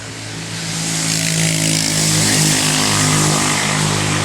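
Dirt bike engines drone outdoors and swell as the bikes pass, a steady loud motor hum that builds over a few seconds with no talking.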